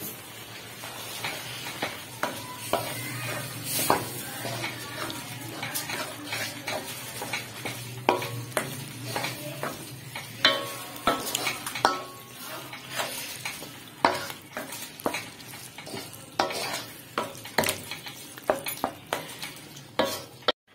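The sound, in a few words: stirring carrot halwa with desi ghee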